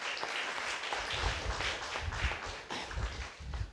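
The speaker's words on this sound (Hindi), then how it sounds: "क्या उसके लिए ताली बजा सकता है आप?" Dense clapping from a church congregation in India, a steady wash of hand claps that carries throughout, with no talk over it.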